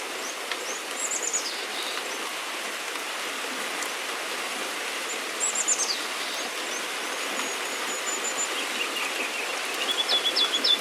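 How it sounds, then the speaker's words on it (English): Soft, steady rain patters outside an open tiny-house window while birds chirp here and there, faint chirps rising in brief bursts over the wash of rain. "You can hear what the rain sounds like with the window open."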